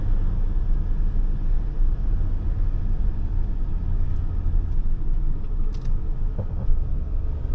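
A car creeps along in stop-and-go traffic, giving a steady low rumble of engine and road noise inside the cabin and a brief faint clatter near the end.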